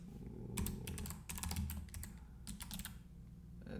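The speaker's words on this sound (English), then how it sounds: "I'm not the fastest typer, as you can tell." Rapid clicking of keys on a computer keyboard in uneven bursts with short pauses, close and moderately quiet over a low steady hum, entering a login at an administrator prompt.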